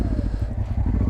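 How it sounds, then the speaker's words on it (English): Honda Transalp motorcycle exhaust heard while riding, a steady low throbbing engine drone with pulsing rhythm, captured close from a helmet over rumbling wind noise. "listening to the exhaust of the good old TRANSALP"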